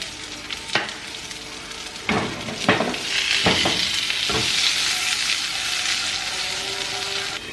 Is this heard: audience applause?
no